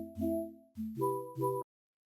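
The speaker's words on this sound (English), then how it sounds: "So the first layer here is this chord synth," A soft chord synth plays four major 7th chords in sequence, each a warm sustained block with a clean onset and decay, then cuts off into silence; quiet, close, and alone without voices.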